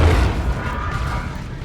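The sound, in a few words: plasma cannon hit, video game Dawn of War 2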